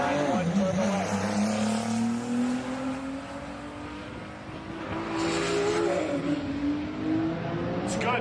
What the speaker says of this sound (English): Right lane coming up, Nissan GTR. Left lane is the Sissio built 991 Turbo S.